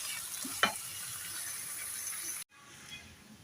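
Garlic-ginger paste and spices fry in a pan with a steady broadband sizzle, a brief scrape of stirring near the start, then a sudden cut to quieter frying for the last second.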